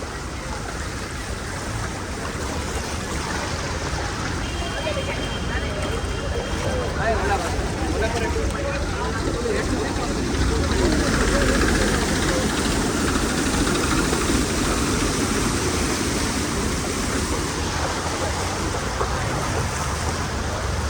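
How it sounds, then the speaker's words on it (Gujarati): A tractor drives through a street flooded after heavy rain in Surat, its engine buried in a loud, continuous wash of churning water and rain, with people talking nearby. "જો ટ્રેક્ટર આવે આગળ ઝોલા આવશે."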